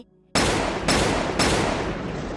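Gunfire sound effect in a Thai audiobook: three loud, close shots in sequence after a short quiet lead-in, each blast ringing out and decaying before the next.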